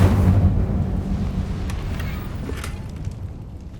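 An Incendio fire spell goes off in Hogwarts Legacy with a heavy, rumbling whoosh of flame that is loudest at the start and then slowly fades into a rough roar with faint crackles.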